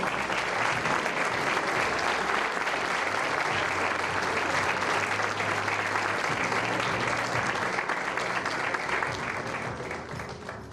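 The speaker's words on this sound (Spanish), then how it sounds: "Así que le damos un aplauso." Steady applause from a crowd at a university graduation ceremony, dense continuous clapping throughout, easing slightly at the very end.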